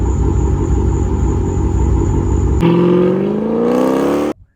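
Dodge Scat Pack with the 392 V8 engine, a loud deep rumble that rises into a sharp rev climbing in pitch, then cuts off abruptly near the end.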